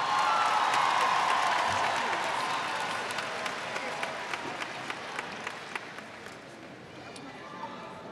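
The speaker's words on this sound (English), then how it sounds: "How about a big round of applause for the Ewing High School Band and Orchestra?" Large audience at a high school graduation ceremony applauds the school band and orchestra, with sustained dense clapping that is loudest at the start and slowly thins out, a few sharper individual claps standing out near the end.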